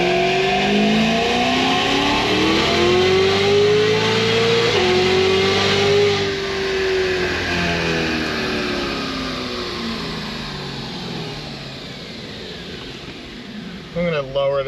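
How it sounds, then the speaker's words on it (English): A Cadillac CTS-V engine revving hard as it accelerates, the pitch climbing and then dropping through automatic upshifts from fourth to fifth gear, loud and close before tapering off. "All right, gonna do a little trans. I'll do like a 4-5 auto upshift first."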